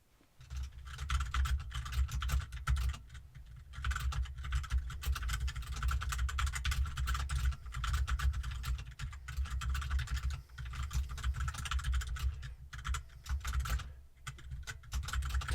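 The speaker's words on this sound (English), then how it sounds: "Tom made sure to type down as much detail as he felt was relevant to the position." Fingers type steadily on a computer keyboard in a quiet office-style setting, a close, continuous patter of keystrokes with brief pauses and no talking.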